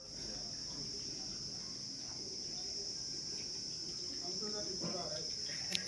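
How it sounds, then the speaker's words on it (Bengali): Crickets chirping outdoors in South Sikkim, a steady, unbroken high trill that holds at an even level for several seconds. "ঝিঝির ডাক।"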